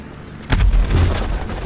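Missile explosions in the airship combat game Black Skylands, a sudden heavy boom followed by rumbling blasts that linger close and loud.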